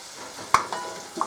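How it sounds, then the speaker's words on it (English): Bacon sizzles softly in a pan while being stirred, with a few distinct scraping knocks of the utensil against the pan over a quiet, steady frying hiss. "That's the bacon reasonably cooked."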